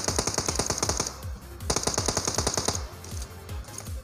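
Rapid automatic gunfire from PUBG Mobile, loud and close, two sustained bursts of evenly spaced shots separated by a short pause, then a lighter trailing stretch of fire.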